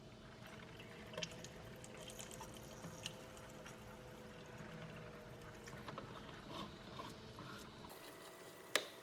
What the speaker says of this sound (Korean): 뚜껑을 닫아 놓아도 이렇게 물 흐르는 소리가 들려서